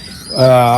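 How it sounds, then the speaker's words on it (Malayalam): Young pigeon squabs in a loft let out a loud, close, wavering call that swells after a brief quiet moment, with no talk over it. "കുഞ്ഞന്മാരുടെ സൗണ്ടുകൾ കേൾക്കുന്നുണ്ടാവും"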